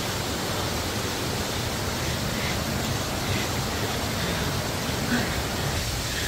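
Hulugan Falls pours in a steady, dense rush of water that fills the space, a continuous broadband roar with no breaks and no voices.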